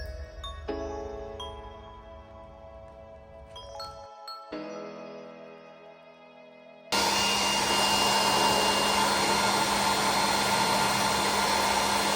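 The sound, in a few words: hair dryer heating car trim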